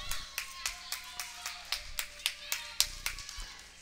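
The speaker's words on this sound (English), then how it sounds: "fans cheering on both teams in a very exciting volleyball game" Fans at a college volleyball match between Trinity College of Florida and Toccoa Falls College clap in a quick, even rhythm of sharp claps, moderately close, with faint cheering behind them.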